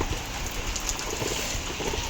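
Continuous rain hissing and pattering close by, a rough, even wash of sound throughout with no talking.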